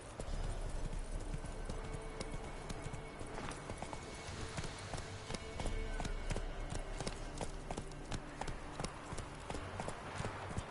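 Horse hooves clip-clop steadily through a galloping ride in The Witcher 3, rapid rhythmic thuds sustained close and loud throughout, with a brief neigh and faint bits of voice.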